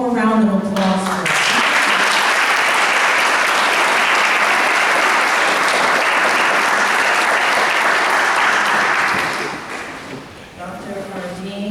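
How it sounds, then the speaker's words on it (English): Loud, sustained applause from an audience at an NAACP conference in Bunnell, Florida, honoring author Dr. Ardain Isma, running about nine seconds before tapering off, with a voice speaking just before and after. "one more round of applause for"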